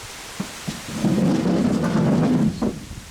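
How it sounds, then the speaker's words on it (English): Heavy outdoor rain on a very windy, stormy day, a dense roaring wash with a loud rumbling thunder swell in the middle and a few sharp gusty knocks around it, close and loud. "there is a lot of rain right now"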